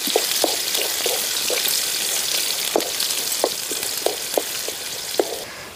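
Sliced green chillies and a large onion fry in a pan with a steady, loud sizzle, punctuated by sharper pops and crackles every second or so and occasional stirring scrapes.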